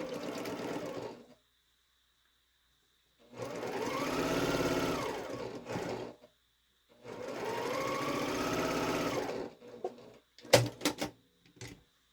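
A domestic sewing machine joins two halves of a scrappy star quilt block centre, running in two steady whirring bursts of a couple of seconds each, then short stitch stops and clicks; nobody speaks.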